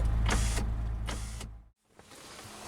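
A BMW Z4 electric window motor whirs steadily nearby, with a droning hum that briefly cuts out and then resumes more softly.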